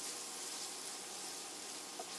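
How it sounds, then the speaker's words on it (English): Onions sizzle softly in a pan for shrimp scampi, a steady, even hiss of frying that holds without break and with no voices. "Y'all can see the onions are starting to sizzle."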